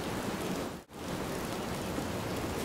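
Steady rainfall in the hunting video game Hunting Simulator 2, a soft, even hiss of falling rain with a brief dip in the middle and no voices.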